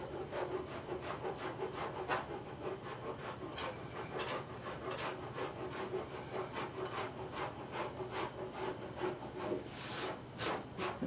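A cheese grater file rasps across homemade glazing putty on a car body line, likely an F100, in repeated steady scraping strokes, close and continuous throughout.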